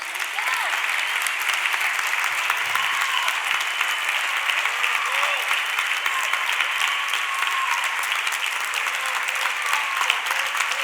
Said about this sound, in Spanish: Vamos a despedirnos con fuerte aplauso.